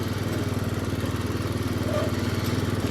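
A Murray riding lawn mower engine runs steadily nearby, a loud, even, pulsing mechanical drone that holds throughout without any voices.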